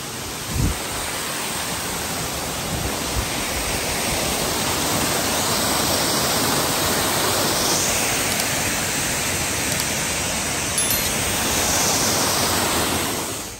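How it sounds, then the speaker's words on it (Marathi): Thoseghar waterfall in Satara: a constant, dense roar of falling water heard close up, loud and steady throughout with no voices. "आणि इथे पाणी पडतं."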